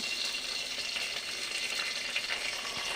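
Curry leaves crackle and sizzle steadily in hot oil at the start of a chicken curry, a dense, close, continuous frying hiss with small pops and no voices.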